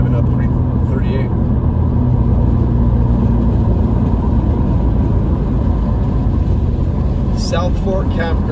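A car climbs Highway 38 toward Big Bear in the San Bernardino National Forest, its engine and road rumble steady and close, with brief rattling or passing sounds near the end.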